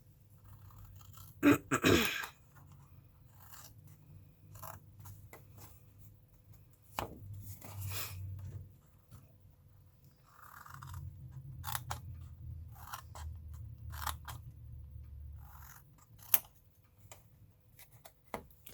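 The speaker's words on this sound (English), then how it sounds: "cutting out the little wedges makes everything fit together better" Scissors cutting little wedges out of a cardboard box, crisp separate snips and crunches scattered in short bursts, close and clear, with soft handling rustle and low room hum between cuts.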